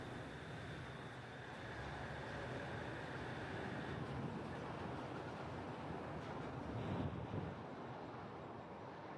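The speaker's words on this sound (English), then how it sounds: "We went back onto the platform to film trains coming in and out" Shonan Monorail suspended train in Kamakura, Japan moving at a station platform, a steady low rumbling hum of the car with a faint high tone that cuts out midway, heard from nearby.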